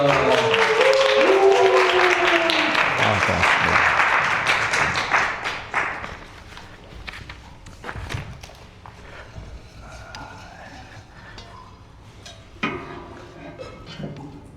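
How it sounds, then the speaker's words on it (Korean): A church youth retreat audience claps loudly together for several seconds to welcome a pastor, then the applause fades into scattered claps, light thumps and faint room noise. "감사의 박수로 우리 맞이하겠습니다"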